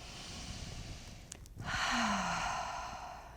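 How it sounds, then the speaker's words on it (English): A single cleansing breath during a chair yoga session, a quiet nasal inhale followed by a longer audible exhale through the mouth, close and soft against a faint background hum. "So we'll start with one cleansing breath, which is in the nose, out the mouth."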